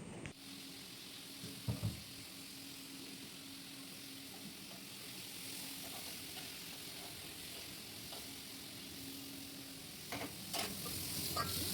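Food fries and is stirred in a home kitchen, making a steady, moderate sizzle with occasional clinks and scrapes of stirring and a faint background hum.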